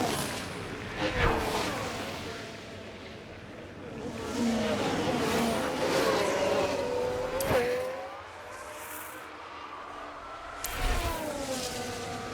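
An F1 car from the video game F1 Manager 24 laps the Suzuka track, its high engine whine rising and falling through gear changes and corners, with a commentator talking over the engine.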